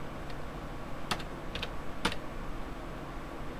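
Brief, scattered keystrokes on a computer keyboard while someone searches in Windows 8.1, a few quick taps over a quiet background hiss.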